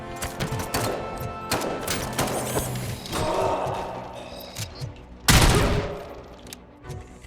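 Gunfire in the video game RoboCop: Rogue City, with bursts of shots over a dense, continuous game soundscape, and one loud blast near the end.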